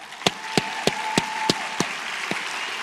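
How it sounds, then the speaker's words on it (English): Audience applause in a graduation ceremony hall for an international master's degree program: a steady wash of clapping with several sharp, distinct claps standing out at regular intervals, fairly close. "I think they deserve a round of applause for their wonderful work."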